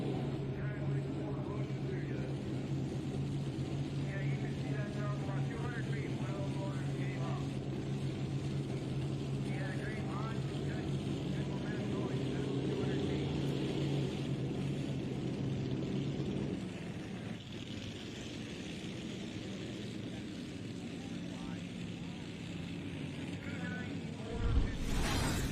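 Modified NTPA pulling tractors at the North Iowa Nationals in Rockwell, Iowa, roar and rumble at a distance as they rev high down the track, a steady loud drone that eases partway through, with talk over it.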